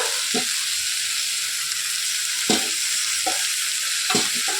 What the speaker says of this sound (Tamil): சேர்த்துட்டு நல்லா வதக்கி விட்டுருங்க எண்ணெயில் நல்லா ஒரு நிமிஷத்துக்கு வதங்கணும்